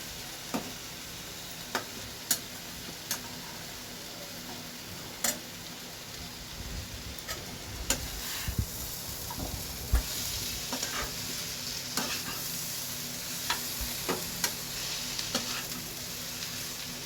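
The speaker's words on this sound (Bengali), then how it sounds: "এবার চিংড়ি মাছটা এর সাথে মিশিয়ে দেব, দিয়ে আবারও নাড়াচাড়া করে দেব।" Shrimp being stirred into a sizzling pan with ground sesame paste and chilli powder: a soft continuous fry under sharp spatula scrapes and clicks against the pan at irregular intervals, close by, with no voices.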